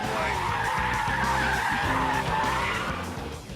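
A Mercedes Brabus SL braking hard on a runway, tyres skidding and squealing loudly and continuously for several seconds, with the engine note underneath, close and dominant.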